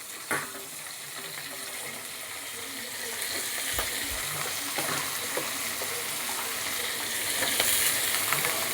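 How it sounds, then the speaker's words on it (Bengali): Chopped vegetables hitting a pan of fried onion, garlic and ginger, giving a loud continuous sizzle and crackle with occasional stirring scrapes, close up and without speech. "এবার আমি দিয়ে দিচ্ছি সবজিগুলো যে কেটে রেখেছি, সেগুলো আমি দিয়ে দিচ্ছি এর মধ্যে"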